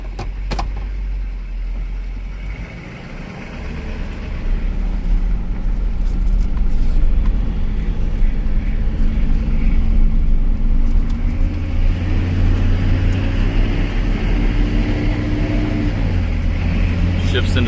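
LB7 Duramax diesel pickup with 85,214 miles, running and driving after five years unused: a low engine rumble builds and holds steady as the truck rolls, with a deep drone under faint background noise.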